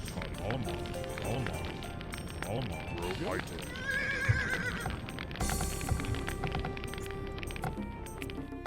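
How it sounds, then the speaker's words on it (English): Heavy horse archers in the Age of Empires strategy game, with repeated horse neighs and whinnies over clip-clopping hooves amid busy battle effects, while someone talks over the game. "Hey, heavy horse archers."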